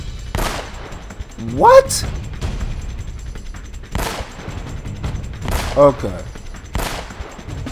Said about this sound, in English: I'm shooting him in the head.